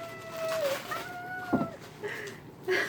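A house cat meows a few times at moderate distance, short rising and falling cries spread over a few seconds against a quiet indoor background.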